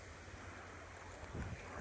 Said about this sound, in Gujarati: પાણી આવવાનો ટાઈમ થઈ ગયો છે દરિયા કિનારે, એટલે જો તો ખરા મોજા આવે